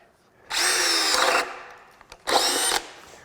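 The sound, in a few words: Craftsman CMCD721 hammer drill boring 1 3/4 inch bit through wood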